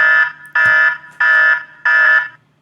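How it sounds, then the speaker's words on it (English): A loud electronic alarm sounds in four evenly spaced, buzzing tonal bursts, each about half a second long with short silent gaps, close and alone without speech. "My revenue, there's the alarm."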